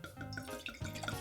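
Francis Ford Coppola Cabernet Sauvignon wine poured into a glass, a short, soft liquid trickle with faint dripping, quiet and close by.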